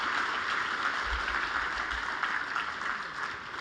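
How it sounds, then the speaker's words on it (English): An audience at a Pag-IBIG Fund chairman's report claps together in dense, sustained applause heard from a distance, an even wash of clapping with no voices over it. "give yourselves a round of applause"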